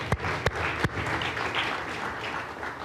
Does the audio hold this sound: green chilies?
no